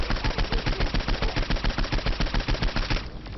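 Rapid automatic gunfire from Saints Row 4 rattles out in a steady, loud burst for about three seconds, then cuts off abruptly, with no voices over it.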